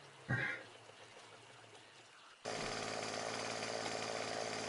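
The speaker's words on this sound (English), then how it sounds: "The chainsaw is excessively loud." A chainsaw in the video game 7 Days to Die starts with a short burst, then after a quiet pause roars into a loud, steady buzzing drone that holds to the end.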